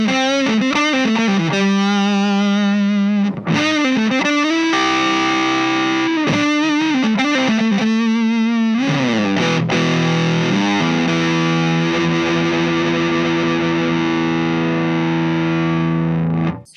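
Electric guitar through an O.C.E. Tsar Bomba fuzz pedal, with bass cut and treble boosted for a bright, saturated distortion; chopped repeated notes give way to a long, sustained buzzing chord that rings out loudly until it ends.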